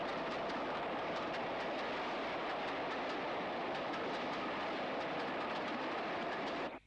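Steam locomotive 6994 Baggrave Hall hauls a train with two chocolate-and-cream Mark 1 coaches across a viaduct in April 1964, giving a steady, dense rolling roar with faint rhythmic clicks that cuts off abruptly at the end.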